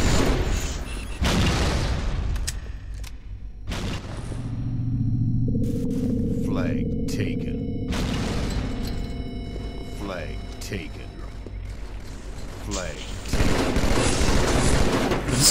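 Booming explosions and scattered gunfire rumble through a Halo 2 multi-flag capture-the-flag match on the Midship map, heavy low blasts rising and fading while players talk over the action.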